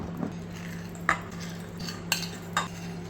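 Banana being mixed into a creamed sugar-and-butter banana bread batter in a bowl, soft quiet stirring with a few sharp utensil clinks against the bowl, close and without speech.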